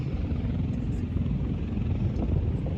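An aircraft at the 2023 Westfield Barnes ANGB airshow touches down in a two-wheel landing, heard as a steady, dense engine rumble throughout with no talk over it.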